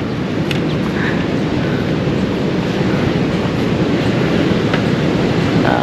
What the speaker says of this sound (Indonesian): kita malah mendengar suara deru ombak pantai nih